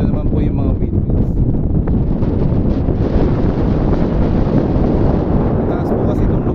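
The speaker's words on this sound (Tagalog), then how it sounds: "Kung maririnig nyo po sa video talaga, grabe yung ihip ng hangin." Strong wind batters the microphone on a high hilltop near windmills in Pililla, Rizal, in a continuous loud rumbling roar, gusting without pause.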